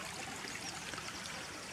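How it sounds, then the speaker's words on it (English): Shallow stream running over pebbles near a small pebble dam at Cotter Force waterfall, a steady close babble and trickle of water throughout with no voices. "the dog's just gone into the stream there"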